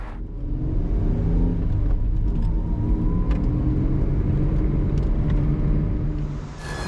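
A sports car, either a Toyota MR2 V6 or a Subaru Impreza WRX STI, pulls away on a track on slick tyres, its steady loud engine rumble building and holding with rising harmonic tones, close and alone without talk.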